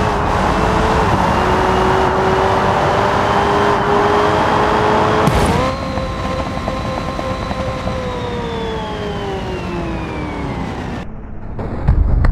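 Hennessy Venom supercar racing in a video game stunt course, engine tone climbing steadily then easing, with a brief impact around the middle and a cut near the end, loud and continuous.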